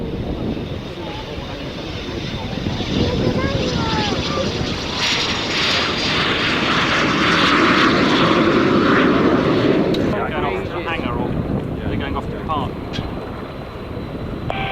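An aircraft at the 1995 Fairford airshow: a loud, steady engine roar that swells in the middle and eases off, with radio voices talking over it throughout.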